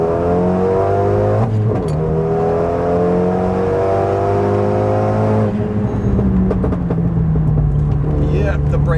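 A Renault Megane 275 RS engine revs hard through the gears, loud and close, with pitch climbing steadily, dropping at each shift and climbing again, and a voice talking briefly over it.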